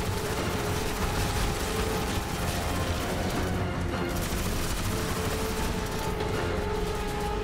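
Sustained gunfire from a shooter in Crysis 3 fills the scene as a dense, continuous barrage of rapid shots layered over loud game noise, steady throughout with no voices.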